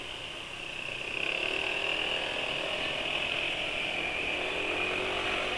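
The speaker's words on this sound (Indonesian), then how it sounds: "Jelas suara mesinnya depan sana lebih kasar dari motor penulis." A motorcycle engine idles nearby with a rough, rattling mechanical note that grows slightly louder after a second and then holds steady.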